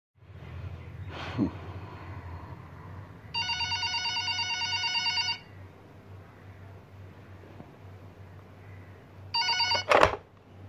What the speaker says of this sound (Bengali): ফোন বাজার পরই